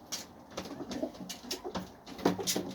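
Cooing from a Lakha pigeon kept among fancy breeding pigeons, several soft throaty coos repeating close by in a loose rhythm with faint rustling between.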